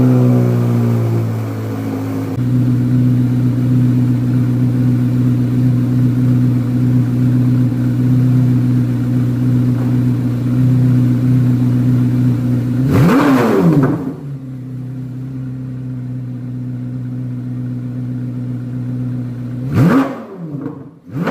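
A Chevrolet C8 Corvette Z06 with a Corsa track exhaust cold starts, settling into a loud, steady high idle. Two sharp revs rise and fall partway through, and the idle drops lower after the first one.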